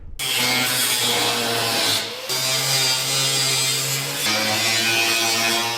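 A power tool grinds and cuts steadily through the rusted steel floor of a Ford F100 truck bed in loud sustained passes, breaking off briefly twice before resuming.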